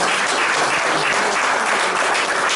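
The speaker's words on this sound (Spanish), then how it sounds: "Den un aplauso grande a aquel Señor." Congregation applauding in church, a steady, dense wash of many hands clapping at once, loud and continuous throughout with no voices standing out.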